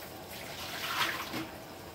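Hot water is poured out of a stainless steel vacuum-insulated tumbler in cold outdoor air, a short splashing pour that swells in the middle and tapers off.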